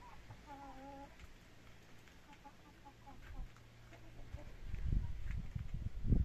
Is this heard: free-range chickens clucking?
yes